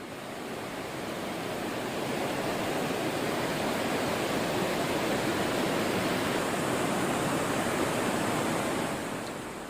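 Water released from full dam gates into the Tansa River in heavy monsoon flow makes a continuous, even, rushing roar that swells in and holds steady throughout, with no voices.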